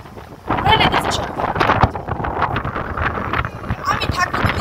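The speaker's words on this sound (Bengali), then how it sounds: "দেখেন কি পরিমাণ বাতাস।" Strong storm wind gusts and buffets the microphone in loud, rough surges, with people talking over it close by.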